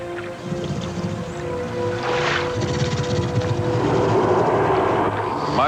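A boat engine starts and settles into a steady droning rumble in a nighttime swamp, loud and close, building over several seconds with faint background noise and no talking.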